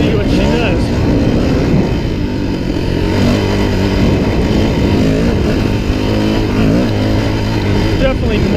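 A Suzuki DRZ400e motorcycle accelerates on a ride, its engine a continuous, loud drone whose pitch rises and falls as the revs climb, with wind rushing steadily over everything.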